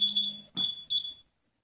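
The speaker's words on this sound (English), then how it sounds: "Now they're both beeping, and this is vibrating" A GT88 smartwatch and a phone beep together in find-phone mode: three short, piercing high electronic tones in quick succession, close and clear, ending abruptly.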